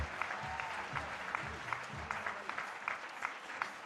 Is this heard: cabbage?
no